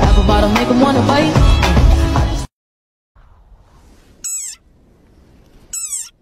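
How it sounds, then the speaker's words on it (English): A desert rain frog gives two short, high-pitched squeaks, each a brief bright burst, separated by quiet hiss. Loud music plays before them and then stops abruptly. "Like this desert rain frog. Squeaking viral sensation."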